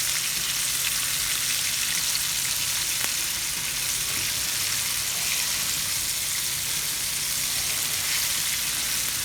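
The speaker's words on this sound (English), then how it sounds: "Fry it all down first." Beef pieces fry in a pot for stew, giving a continuous crackling sizzle with fine popping spatters at a steady, fairly close level, with no talk over it.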